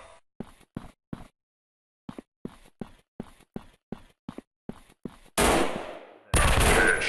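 Gunfire from the mobile shooter game Gun Strike 3D: a run of sharp single shots in quick, uneven succession, then two long, loud bursts of sustained automatic fire near the end.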